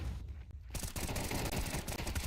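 Rapid AK rifle fire in Counter-Strike, a dense burst of repeated gunshots in a professional match, continuous and close after a brief quieter start.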